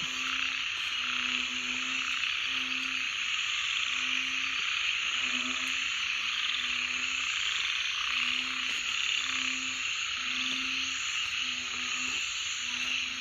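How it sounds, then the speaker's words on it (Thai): Frogs and narrow-mouthed frogs croak by a pond at night, their low, rhythmic calls repeating steadily up close over a constant high hiss of insects. "ผมก็ได้ยินเสียงกบด้วยนะครับ"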